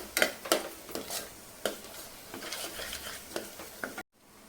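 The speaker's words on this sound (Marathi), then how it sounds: "वाटण टाकून घेतल्यानंतर छान हे परतून घ्यायचं आहे आणि तेल सुटेपर्यंत वाट बघायची आपल्याला" Ground masala paste stir-fried in oil for a spicy mutton dish, with a spoon scraping the pan in repeated sharp strokes over a faint sizzle, close and uneven, ending abruptly.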